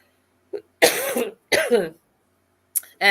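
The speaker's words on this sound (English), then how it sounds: "I just need to cough" Coughs from a woman leading a Sunday church service, two distinct harsh, voiced coughs close to the microphone, followed by a short throat-clearing catch, with silence between bursts.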